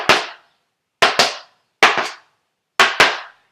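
Rattan kali training sticks strike in a block-then-follow-through rhythm: four close, loud pairs of sharp wooden cracks, each pair two quick hits, spaced about a second apart with nothing else heard.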